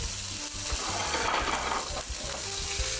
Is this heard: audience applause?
no